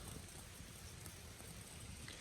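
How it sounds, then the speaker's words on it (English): Steady rain falls at a campsite around a charcoal cooking fire, a constant close hiss of drops with no break across the short stretch and no talking. "it's raining again"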